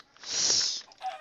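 A single short, bright squawk like a chicken's cluck from a video game, close and alone, over near silence.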